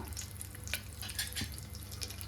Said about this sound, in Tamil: எண்ணெய் ஹீட் ஆனதும் கடுகு போடலாங்க